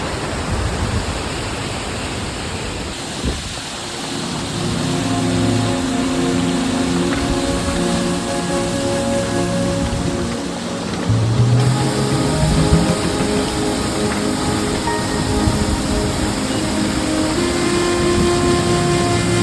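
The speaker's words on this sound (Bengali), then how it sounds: "তো ভাই এটাই হচ্ছে মেন কাঞ্চনজঙ্ঘা ওয়াটারফল।" Kanchenjunga Falls near Pelling in Sikkim gives a steady, loud roar of falling water that runs unbroken throughout, with a low engine-like hum mixed in.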